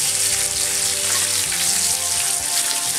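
Marinated salmon sizzles on a grill, giving a continuous, dense hiss that stays steady and fairly loud throughout, with no voices.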